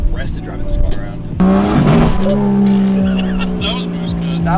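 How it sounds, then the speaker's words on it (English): Tuned rear-wheel-drive Toyota JZX110 engine roaring loudly close up, with a sudden jump in loudness and a harsh revving burst as it slams into an aggressive boost cut; a voice talks over the engine. "That was boost cut."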